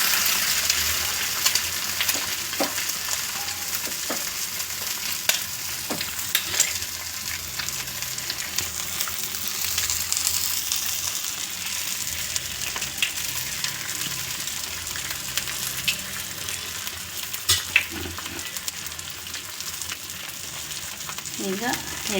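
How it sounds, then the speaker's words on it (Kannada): An egg omelette fries in a pan over medium heat, a continuous soft sizzle and crackle with occasional brief scrapes or taps, steady and close throughout. "ಈಗ ಇದ್ರ ಮೇಲೆ ಎಗ್ ಹಾಕ್ಕೊಳ್ಳೋಣ."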